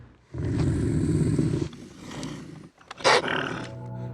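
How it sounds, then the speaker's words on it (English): Growling roar from a wolverine, a deep rough snarl held for over a second, then a pause, a sharp louder burst and a trailing tonal whine, close and clear with no talk. "Next, the fearsome wolverine, also known as the devil bear in Alaska."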